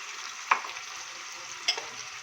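Chopped tomatoes and onions stirred and fried in a pot for a beef stew, a steady soft sizzle with two brief spoon clinks against the pot.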